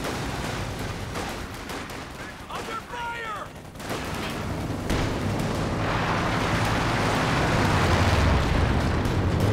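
Grenade blasts and gunfire in the World War II strategy game Company of Heroes 2, a dense, loud battlefield din of booms and rattling shots that swells toward the end, with a voice briefly audible over it.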